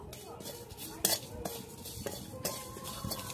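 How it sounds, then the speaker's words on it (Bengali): Cumin, fennel and dried chillies dry-roasting in a hot pan, stirred with a metal utensil that clacks and scrapes against the pan in several sharp knocks over a faint sizzle. "আমি শুকনো খোলাতে জিরেটা দিয়ে দেব তারপরে মৌরি আর শুকনো লঙ্কা দিয়ে ফোড়নটাকে হালকা করে একটু নাড়াচাড়া করে নেব"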